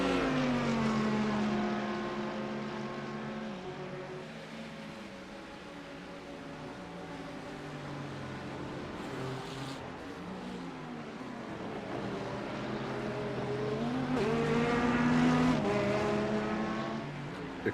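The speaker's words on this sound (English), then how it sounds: "It's so weird hearing that Corvette sound like that. They needed a different exhaust." Corvette race car at Monza with an unusual exhaust note, a loud engine sweeping through rising and falling gear changes as it passes, with other engine noise in the background and no talk.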